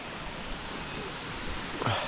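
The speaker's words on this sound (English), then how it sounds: "There is one waterfall." Steady broadband rushing of a waterfall in Bali fills the scene, a constant wash of falling water with slight swells near the end, heard up close and without talk.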